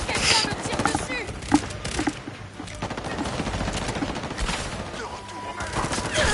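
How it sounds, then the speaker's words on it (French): Gunfire in the video game Highguard, bursts of rapid shots and scattered single cracks under ongoing game ambience, fairly close and moderately loud, with a sharp impact partway through. "On me tire dessus."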